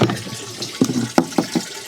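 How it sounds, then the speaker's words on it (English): Rainwater from a hose pours into the top of a 360-liter garden tank, a close, sloshing, irregular splashing and gurgling with no voices. "I hope you can hear the water going in."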